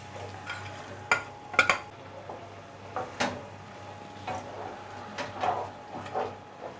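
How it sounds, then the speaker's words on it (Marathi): Ground paste of roasted dry coconut, chili, coriander, ginger and garlic is turned in a pan, with a series of quiet spatula scrapes and clinks at an uneven pace close by and faint sizzling under them. "आणि हे वाटण आहे ना ते चांगलं आपण परतून घेऊया"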